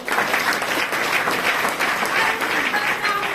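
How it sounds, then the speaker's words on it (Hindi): A crowd applauds a teacher and her husband at a success-story gathering, with dense, steady clapping that stays loud and even throughout, and a few voices mixed in beneath it. "मुनि मैडम, उनके सर, उन दोनों के लिए जोरदार ताली"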